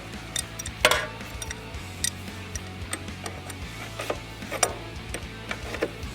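Ratchet tightening the jam nuts and axle nut on a bicycle. Light, irregular clicks tick out close by over a low background hum, with a few sharper clacks mixed in.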